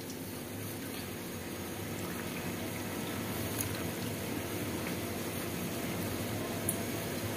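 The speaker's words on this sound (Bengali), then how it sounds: "এই চালের গুঁড়োটা এখন গরম জল দিয়ে একটু মাখানো হবে" Hot water poured onto rice flour in a bowl for steamed rice-cake dough, a steady close hiss and trickle of liquid running through the whole stretch at moderate level, with no talking.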